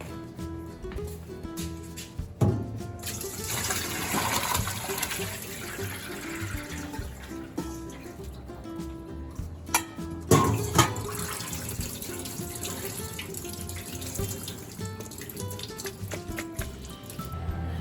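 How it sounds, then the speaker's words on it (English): Water pours and splashes steadily into a sink as blanched vegetables are drained through a strainer, with a couple of louder gushes as the flow surges, close by and continuous. "we're gonna bring them over to the sink and strain all the water out"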